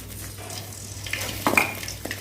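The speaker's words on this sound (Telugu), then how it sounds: "ఆయిల్ వేసుకున్న తర్వాత ఇవ్వండి కరివేపాకు," Curry leaves sizzling in hot oil with a soft, steady frying hiss and a few stirring clinks and scrapes, close by and without speech.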